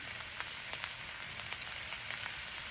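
Shrimp fried rice sizzles in a pan with sesame oil, a steady soft hiss of frying with faint crackling pops throughout, heard alone at moderate distance.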